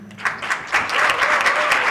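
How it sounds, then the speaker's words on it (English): An audience applauding at a women in media mentoring event, a loud, dense burst of many hands clapping that builds within the first moments and holds steady to the end. "Very big round of applause, please"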